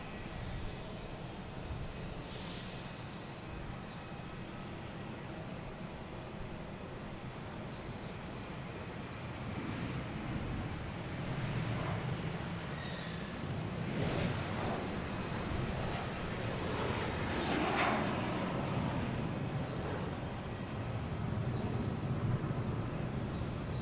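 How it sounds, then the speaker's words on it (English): A JetBlue Airbus A321 takes off at Boston Logan International Airport, its engine roar heard from a distance as a steady broadband rumble that slowly swells, mixed with wind noise and no speech. "next taking off is JetBlue, flight 2173 and A321,"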